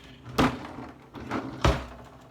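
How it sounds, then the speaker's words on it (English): Three ice cubes are dropped one by one into a smoothie in a blender jug, each landing as a close, sharp thud spaced about a second apart, with no talking. "About 3 ice cubes I'm going to add to it."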